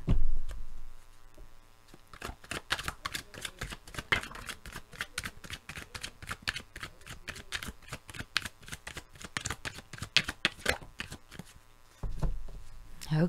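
Tarot cards shuffled by hand in a long, steady run of crisp riffling flicks, close and loud, with a brief pause near the start and a heavier handling noise at the end; no talking.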